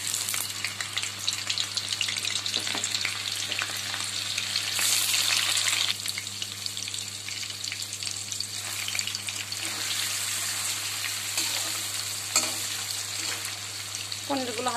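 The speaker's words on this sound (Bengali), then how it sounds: "এবার আমি পনিরগুলো হালকা করে ভেজে উঠিয়ে নেব।" Paneer pieces lightly frying in oil in a wok make a steady, close sizzle that carries on for several seconds, with occasional soft stirring sounds and no talk.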